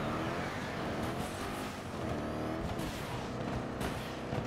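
A vehicle in the shooter Battlefield 2042 is driven hard, its engine roaring loud and continuous with surging revs and a faint tire-squeal edge, no voices over it.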